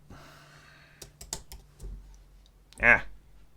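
Computer keyboard keys are pressed in a few scattered clicks and a short cluster, fairly quiet and close, followed by a brief louder vocal sound like a voice or breath.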